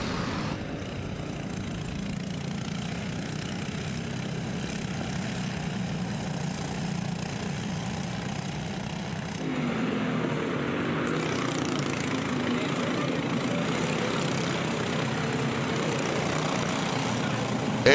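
Racing go-karts fitted with LED glow lights buzzing around a track during a night race, a continuous droning engine roar that swells louder partway through as the pack draws nearer.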